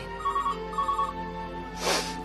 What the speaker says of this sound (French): Oh, ce téléphone, ça n'arrête pas.